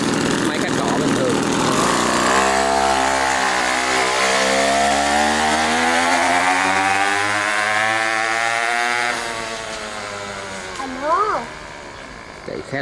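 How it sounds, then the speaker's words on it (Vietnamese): A homemade lawn mower powered by a scooter engine, pull-started like a regular mower, runs with a loud, steady buzzing drone for several seconds before the revs drop and it idles down more quietly. "Cái tiếng thì nó hơi ồn, nhưng mà nếu mình chế tạo cái bô giảm thanh cho cái động cơ này thì nó sẽ đỡ ồn hơn."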